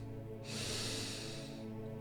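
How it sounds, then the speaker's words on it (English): A person taking one long sniff in, a soft drawn-out hissing inhale lasting about a second over a quiet background hum. "He takes a long sniff in."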